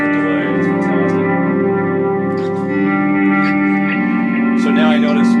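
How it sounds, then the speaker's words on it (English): Electric guitar run through a Soundtoys EchoBoy delay plugin on its Memory Man setting: held, chorused notes with trailing echoes under light talking. "This is the Sound Toys plugin. Exactly. Yeah, the Echo Boy."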